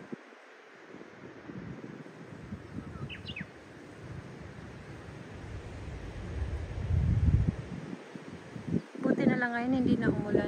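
Strong wind gusting across the open hilltop sky park at Yonozu village in Saiki City, Oita, a steady broad roar that swells louder toward the end, with faint bird chirps and a voice speaking near the close.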